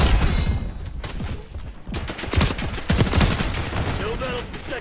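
Enemy gunfire in Black Ops 6 online multiplayer: a rapid, sustained string of sharp shots at moderate distance, with bursts coming in uneven clusters and no speech over them.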